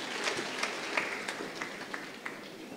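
Soft, scattered applause from a small gathering at a memorial service, with thin, irregular claps that stay fairly faint and distant for a few seconds.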